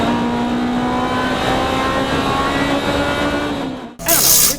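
Race cars accelerate four wide out of a tight turn, a loud, sustained rising engine whine that drops away briefly before another car roars close by.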